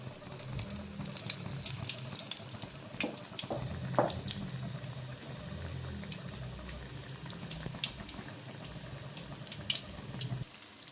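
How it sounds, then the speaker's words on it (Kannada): Aloo palak pakoda, potato and spinach fritters dipped in batter, fry in hot oil with a steady close sizzle and scattered sharp crackles and pops throughout, no voices. "ಈ ರೀತಿ ಹಿಟ್ಟೊಳಗಡೆ ಡಿಪ್ ಮಾಡ್ಬೇಕ್ರಿ. ಈ ರೀತಿ ಎಣ್ಣೆ ಬಿಟ್ಬಿಡೋದ್ರಿ."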